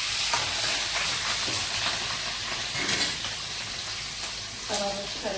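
Curry leaves and green chilies crackle and sizzle in hot oil for a prawn curry, a dense continuous frying hiss with scattered spattering pops and a voice speaking faintly underneath.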